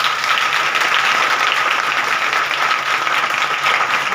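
An audience at an ashram satsang gathering claps in steady, dense applause, loud and sustained from start to finish with no pause.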